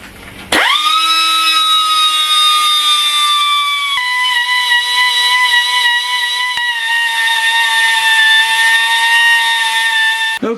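High-pitched whine of a power tool undercutting the combustion chamber of a Ford 2.3 Lima cylinder head, a steady loud tone that starts abruptly, dips slightly in pitch partway, then holds until a quick stop.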